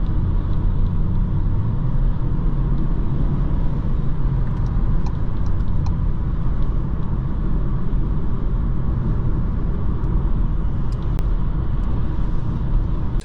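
Inside a 2023 Volkswagen Taigo during a 0 to 100 km/h acceleration run, a dense, constant engine and road rumble fills the cabin at steady loudness with no one speaking.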